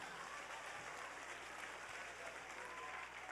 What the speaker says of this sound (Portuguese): Agora você pode aplaudir, gente.